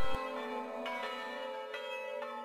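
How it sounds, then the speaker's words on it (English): Church bells ring out in Bethlehem with sustained, overlapping tones and several fresh strikes, resonating steadily at a moderate distance with no voices. "Listen to the sounds of religious freedom with the call to prayers at daybreak and church bells ringing out"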